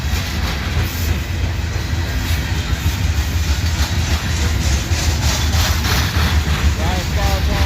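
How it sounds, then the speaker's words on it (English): A heavy CSX freight train with P&LE locomotives rolls past close by, a dense steady roar of rumbling engines and rattling wagons that holds loud throughout; a voice talks over it at times. "All this weight of this train is pushing down on those locomotives."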